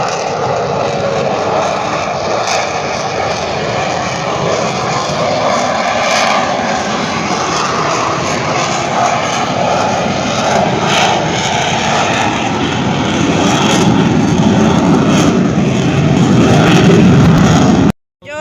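A jet aircraft roars past at an airshow near 0.9 Mach, trailing vapor, a loud sustained broadband rush that swells toward the end before cutting off abruptly.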